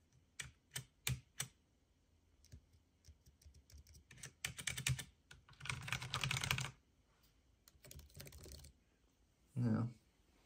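Keys on a Dell XPS 13 2-in-1 laptop keyboard clack in quick bursts of typing, close and crisp, with a short stretch of someone speaking near the end.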